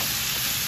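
Sautéed pechay with tofu is stirred in a hot pan, a brief, dense sizzling hiss that stays loud and even throughout.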